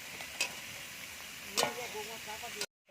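Young green jackfruit and pre-fried potatoes go into a pan. Two sharp scrape-and-clatter hits ride over a soft background sizzle, then the sound cuts off abruptly.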